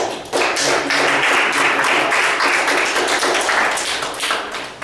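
Applause in a meeting room at a student senate meeting, a burst of many people clapping that starts abruptly, stays strong and close for several seconds, then tapers off near the end.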